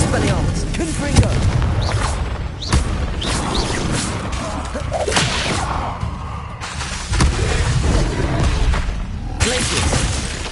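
Confringo explosion spells blast repeatedly in the video game Hogwarts Legacy, loud booming bursts with shattering debris recurring every second or two over a continuous layer of combat noise.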